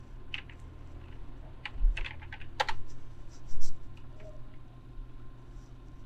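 Someone types office.com on a computer keyboard in short, scattered bursts of light, close key clicks over a quiet room hum.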